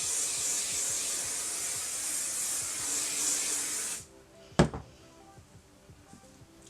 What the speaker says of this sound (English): then I take my hairspray.